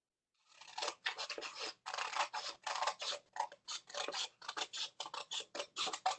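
Scissors snipping through paper for a sky-themed craft project, a steady run of close, crisp cutting strokes in quick repeated bursts with brief pauses, no voices.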